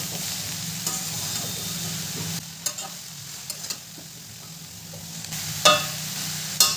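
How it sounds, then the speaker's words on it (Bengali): Chopped bottle gourd is stirred into a sizzling, well-fried spice paste for Bengali lau chingri, a continuous frying hiss with occasional scrapes and a couple of sharper clinks near the end, close and without talk. "এরপর ভালো করে আমি মিশিয়ে নেব মশলাটার সাথে"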